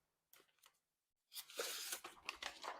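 A Cold Steel 4-Max big knife slices paper, a short faint rasp followed by a longer, louder tearing cut, both close and quiet overall.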